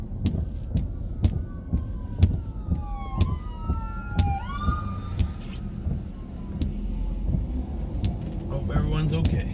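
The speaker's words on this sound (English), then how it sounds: "Uh-oh, there's an ambulance coming." An ambulance siren approaches a car pulling over, its wailing tone sweeping up and down for several seconds over steady road rumble and scattered knocks.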